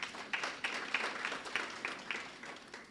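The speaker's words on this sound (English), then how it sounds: "Give yourself a round of applause." Audience applause for university deans of schools and newly appointed deputy deans at an excellence awards ceremony: fairly faint, scattered claps with a loose, uneven rhythm across the whole stretch.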